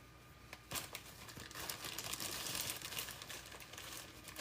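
A plastic bag handled and crinkled during a crafting project: soft, continuous crackling and rustling close to the microphone, with small sharp crinkles scattered through, and no talking.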